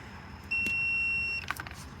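A Fluke multimeter in continuity mode gives one steady, clear electronic beep lasting about a second. It sounds alone in a quiet shop while testing Dodge Ram Cummins AC compressor wiring.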